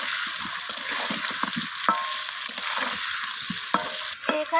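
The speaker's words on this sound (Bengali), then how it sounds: "লবণ আর হলুদটা আমি আলুর সাথে মিশিয়ে নিয়ে আলুটাকে লালচে করে ভেজে নেব" Potatoes seasoned with salt and turmeric fry in hot oil, giving a steady close sizzle broken by occasional stirring clinks and scrapes, with no voices.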